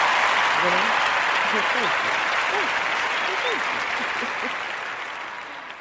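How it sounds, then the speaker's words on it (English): Applause from a small live audience on a talk show, a dense continuous patter of clapping that slowly fades out, with a voice speaking briefly over it. "I'm going to clap for myself."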